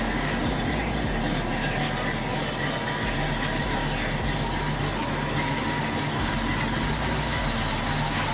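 A 1975 Donk car on 26-inch Forgiato wheels rolls past with a deep, steady engine rumble and road noise, loud and close throughout with no pause.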